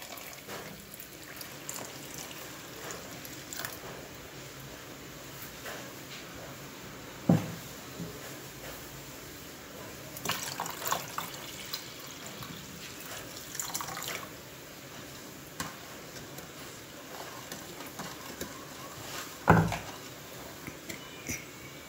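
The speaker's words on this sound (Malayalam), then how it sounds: "അതൊരു പാത്രത്തിലിട്ട് നമുക്ക് 8 ഗ്ലാസ് വെള്ളം അതിലേക്ക്, തിളപ്പിച്ച വെള്ളമാണ് കേട്ടോ," Boiled water is poured over jelly powder in a pot and stirred for a dessert: a quiet, low liquid wash with a few soft clinks and knocks standing out, no voices.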